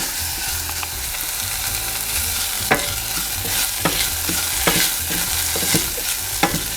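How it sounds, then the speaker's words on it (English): Tomato paste fries in a pan, giving a steady sizzle with occasional sharp stirring scrapes and clicks of a utensil, close and fairly loud with no talking. "so we let this fry for a little bit"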